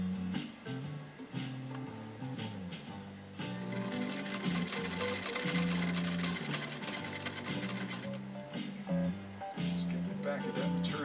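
A 1923 Singer 66-1 sewing machine stitching thin 100% cotton, its steady rhythmic mechanical clatter running close and clear beneath a person talking throughout.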